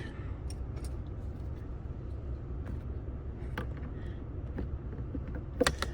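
A 2009 VW Rabbit engine idles steadily as a low, even rumble throughout, with small clicks and taps from the cabin and a brief knock near the end.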